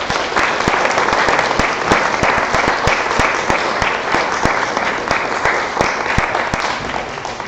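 An audience at a 2016 candidate forum gives a sustained round of applause, loud dense clapping with a few sharp individual claps standing out, holding steady for several seconds before easing slightly.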